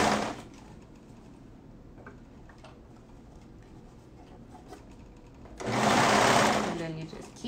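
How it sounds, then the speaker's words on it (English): A sewing machine, apparently a serger, stitches a neckband onto a crew-neck shirt, with soft ticking running under quiet room sound before a loud, close burst of motor whir near the end. "just keep sewing"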